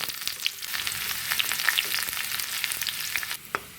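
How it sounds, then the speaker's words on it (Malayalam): Shallots and curry leaves frying in hot coconut oil after mustard seeds have popped, a soft steady sizzle with scattered crackles and light pops, fairly faint and close. "ഇതിലേക്ക് അല്പം കുഞ്ഞുള്ളിയും കറിവേപ്പിലയും കൂടി ഇട്ട് ചൂടാക്കിയെടുക്കാം"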